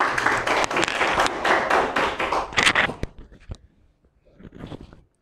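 Audience applause for poet Hassan Guman at a Zouq-e-Wali poetry gathering: dense clapping fills the first three seconds, then fades to scattered claps and a brief second burst near the end.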